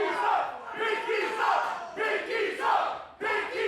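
A wrestling crowd at the Berwyn Eagles Club during a Women's Wrestling Army match roars continuously, with rising and falling chants split between two sides, loud and close throughout.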